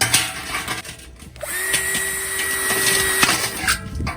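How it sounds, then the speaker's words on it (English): A power drill whirs up loudly and grinds steadily for a couple of seconds drilling a hole in a metal pail, then winds down, close by and without speech. "get our handy drill here and drill in some holes"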